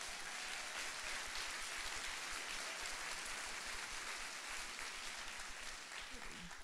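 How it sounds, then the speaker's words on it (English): Applause from an audience at a 1 Million Cups entrepreneur gathering, a faint, steady wash of clapping held at an even level throughout, with a murmur of voices mixed in underneath. "Let's give them a round of applause."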